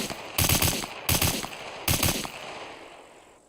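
Automatic gunfire in SCUM at a naval base: three loud bursts of rapid shots, each followed by a short ringing echo, with the final tail fading out.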